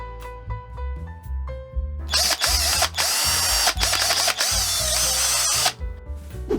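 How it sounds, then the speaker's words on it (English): A small power drill whirs loudly into styrene plastic for several seconds after a few brief ticks, stopping and restarting briefly before trailing off. "drilling holes in some styrene"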